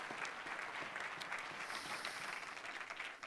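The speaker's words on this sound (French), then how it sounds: "Ça mérite une main d'acclamation." A congregation at a French-language sermon breaks into applause, a continuous patter of many hands clapping, faint and distant-sounding but steady for about three seconds.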